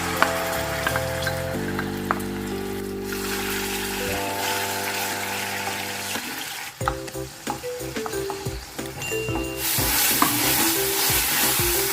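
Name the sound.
frying onion, garlic and ginger paste in oil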